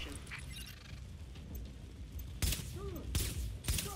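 Suppressed gunfire in The Division video game: three sharp, muffled shots in the second half, separated by short gaps, over a low ambient game background with faint chirps.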